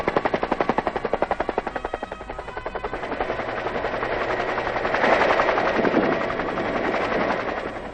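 A military helicopter picking up a patrol beats with rapid, loud rotor thumps close by, the chopping slowly blending into a dense roaring wash of engine and rotor noise.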